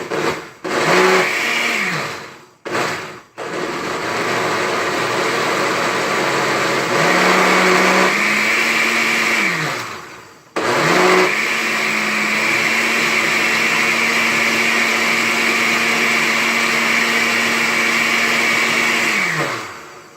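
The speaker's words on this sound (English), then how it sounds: "That's how blenders work." A blender whirring through a morning shake, loud and close, its motor starting, stopping and revving in several bursts with pitch changes as the contents mix, then running steadily for a long stretch.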